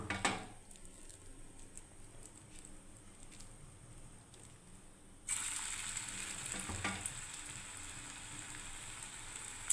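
Raw banana, drumstick, brinjal and bitter gourd fry in hot oil in a kadai on a gas stove. A soft sizzling hiss swells suddenly louder partway through and then holds steady.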